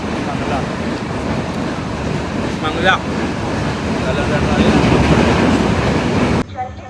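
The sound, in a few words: Diwa–Sawantwadi passenger train running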